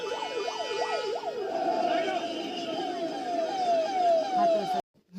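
A wailing ambulance siren at the Maha Kumbh Mela sweeps up and down rapidly, then shifts to a slower rising wail, loud and close over traffic noise, cutting off abruptly near the end.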